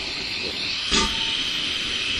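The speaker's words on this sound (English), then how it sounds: "Here I light the stove again." Gas camping stove lit outdoors in the bush, a steady broadband hiss throughout with a brief louder whoosh near the middle as the burner catches.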